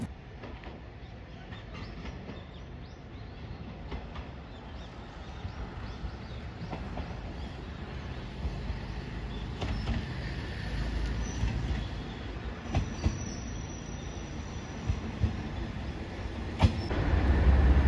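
JR Shikoku 1500 series diesel railcar at a station platform in snow, a steady rumbling rail noise with faint clicks and a few sharper knocks throughout, moderately close, no voices.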